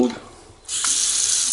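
Water gushing from a repaired Delta faucet after replacing the valve stem and gasket, bursting on loudly after a brief pause and running steadily close by.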